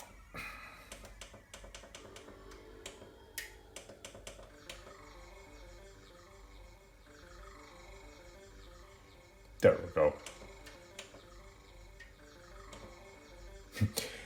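Rhythmic electronic chirps and warbling tones from a Commodore Amiga loading from a GOTEK USB floppy emulator, with sharp clicks and ticks throughout; a voice speaks briefly partway through.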